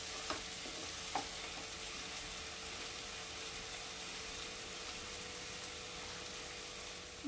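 Restaurant-style mixed vegetables fry in a pan with a soft, even sizzle, joined early on by a few light clicks of a spoon stirring.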